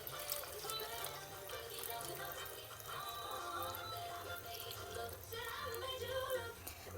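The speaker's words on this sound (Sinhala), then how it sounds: "දැන් අපි වට්ටක්ක ටික හොඳින් තැම්බෙන්න අවශ්‍ය පමණට වතුර දාගමු" Water is poured into a pot of pumpkin pieces to boil it for a home-cooked dish. It comes through as a faint, continuous trickle and splash of liquid with low kitchen background noise.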